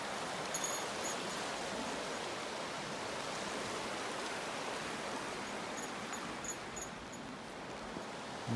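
Quiet, continuous rushing of Bryant Creek flowing over rocks in the mountains, a soft steady wash with faint high chirps at moments.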